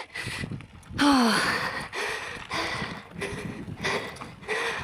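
Heavy, rhythmic panting and gasping from a cyclist grinding up a steep gravel climb in the Jeseníky mountains, close to the microphone, with breaths repeating about once a second.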